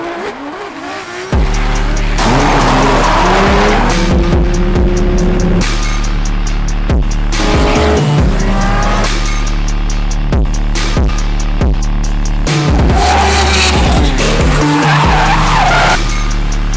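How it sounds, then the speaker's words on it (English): Cars drifting at a Riverside drift event: loud, sustained tire squeals and skidding over roaring, revving engines, with repeated bursts as cars slide past close by. "We out here Riverside drifting."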